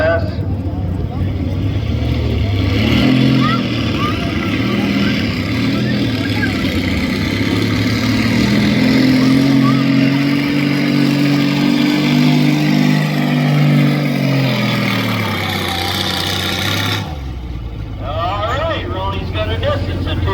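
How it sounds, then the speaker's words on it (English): A naturally aspirated pulling tractor in a 100-pound class roars at a community fair truck and tractor pull, a loud sustained engine drone that climbs in pitch and holds before cutting off, with an announcer talking over it. "100-pound naturally aspirated tractor class."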